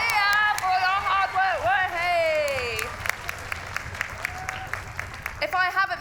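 An audience at a book awards ceremony cheers and claps, scattered sharp claps rising beneath a loud, excited voice shouting over the crowd.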